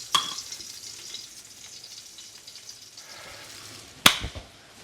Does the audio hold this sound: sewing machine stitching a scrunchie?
no